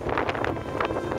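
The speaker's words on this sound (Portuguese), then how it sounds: "O vento é intenso" Strong, shifting wind blows through a tent campsite on a pioneer trek, a continuous loud roar buffeting the microphone with no pauses.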